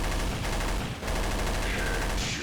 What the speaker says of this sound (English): if we get flashed, my intention is to just keep shooting. Because that's the M249